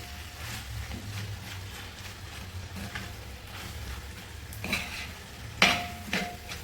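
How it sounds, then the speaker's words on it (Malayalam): Cashews, raisins and coriander leaves being stirred into kappa biryani with a metal spoon in a pot, soft scraping under faint background hum, ending in a few sharper clinks of spoon against the vessel. "നമ്മുടെ അണ്ടിപ്പരിപ്പ് മുന്തിരിങ്ങായും മല്ലിയില ഇവനെ നമുക്ക് എല്ലാം കൂടി ഒന്ന് മിക്സ് ചെയ്യാം."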